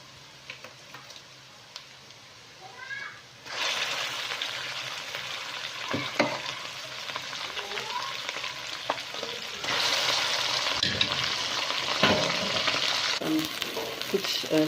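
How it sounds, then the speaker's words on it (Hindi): Mustard greens for sarson ka saag hit hot tempering oil with salt and green chilies, sending up a sudden loud sizzle that keeps crackling as the leaves are stirred in bursts, with occasional utensil clatter. "अब जी इसमें मैं साग को शामिल करूँगी।"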